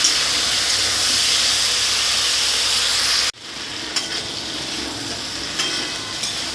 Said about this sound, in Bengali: সবজিগুলো ভালোভাবে নাড়াচাড়া করে নিয়েছি।